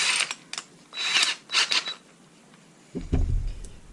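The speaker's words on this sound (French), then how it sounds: "je prends une mèche de 10 et on se fait ça" A 10 mm bit drills into wood with several short high-pitched whirring bursts, then a lower grinding rumble near the end as the bit bites deeper.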